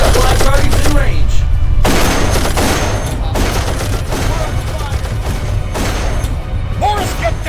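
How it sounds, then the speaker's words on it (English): An automated turret in the video game Darkest of Days fires in loud, dense, sustained bursts of rapid gunfire, close and continuous over heavy low rumble, with voices speaking through the shooting. "Careful, Morris. That's an automated turret."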